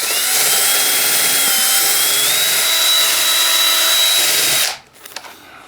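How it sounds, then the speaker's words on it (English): A drill with a wire wheel whines at a high, steady pitch as it scrubs a metal collar clean, then stops suddenly, leaving a few faint clinks. "I just have a drill motor with a wire wheel on it"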